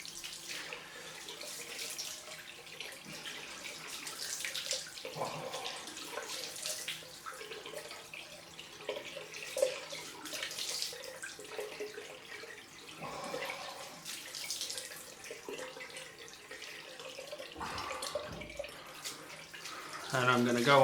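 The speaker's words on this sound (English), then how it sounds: "It's cold rinse time." A bathroom tap runs steadily for a cold rinse after a straight-razor shave, the water hissing close by with a few brief splashes and shifts in flow.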